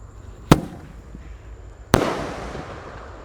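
A Raja Wali Jumbo firework bursts twice, low and then high, two sharp loud bangs about a second and a half apart, the second trailing into a crackling decay.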